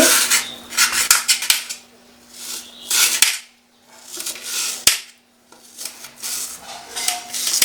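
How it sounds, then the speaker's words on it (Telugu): A knife slices cucumber thinly on a board for Andhra-style cucumber pickle, giving quick bursts of crisp cutting strokes with short pauses between, close and fairly loud. "ఇలా తీసుకుని సన్నగా కట్ చేసుకోండి"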